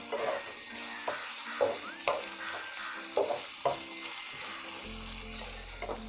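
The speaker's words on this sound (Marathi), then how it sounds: "टोमॅटो फोडणीमध्ये शिजल्यात" Tomatoes frying in a spice tempering, a close, steady sizzle broken by repeated scraping stirs of a spoon in the pan at an unhurried rhythm.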